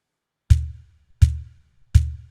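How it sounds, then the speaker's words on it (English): Cajon bass voice of a Drumport Laser Stomp drum pedal, struck three times at a steady pace: each hit a round, resonant low boom with a bright slap on the attack and a short fading tail, close and solo. "The next one is the cajon bass."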